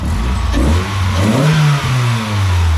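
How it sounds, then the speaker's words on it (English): A car engine fitted with a pod air filter revs up loudly and close by, rising in pitch, dipping briefly, then roaring again with a deep throaty tone. "transform the sound of your engine"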